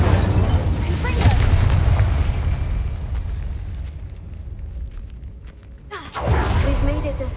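Incendio and Confringo spell blasts go off in the Hogwarts Legacy video game as heavy booming bursts over a continuous rumble, with a voice casting between them.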